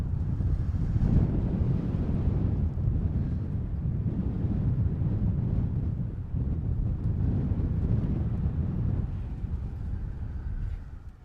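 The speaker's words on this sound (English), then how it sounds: "It's windy." Steady, strong wind roars across a microphone at a Badlands overlook, a continuous low buffeting rumble with no breaks and no voices.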